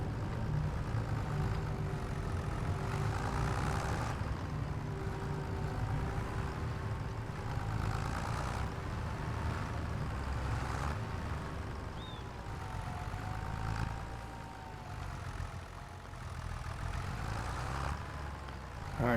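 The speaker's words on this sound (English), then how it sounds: "this tractor is struggling with these big marshmallows on the front of it" A tractor engine in Farming Simulator 25, fitted with large silage bales on the front, runs with a steady low rumble and hum throughout, close and continuous with little variation.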